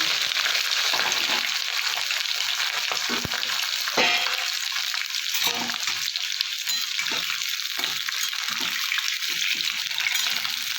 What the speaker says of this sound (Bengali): শিমগুলো আমি ভালো করে ভেজে নেব